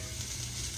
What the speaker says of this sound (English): our onions are about tender